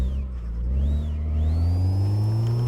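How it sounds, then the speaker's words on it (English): A BMW E60's engine revs up from a loud low drone into a rising pitch, with a thin turbo whistle and whine sweeping over it, heard up close and continuous. "I do like hearing the turbo noise in this."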